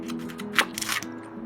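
A knife cutting a Dungeness crab between its body sections, giving a short, close crunch of shell with a few crisp cracks over a steady low hum.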